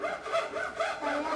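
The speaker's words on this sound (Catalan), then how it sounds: "Tallant un arbre amb una serra, estava serrant un arbre" A hand saw cutting through a tree trunk, rhythmic back-and-forth rasping strokes, about four even pulls, close and clear with no voices.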